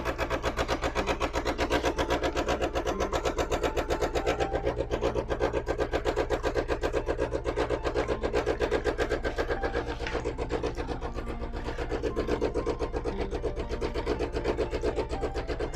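A super automatic espresso machine under $600 runs close to the listener, giving a steady, rapid mechanical buzz with a fast rattling pulse that holds for about sixteen seconds with no voices.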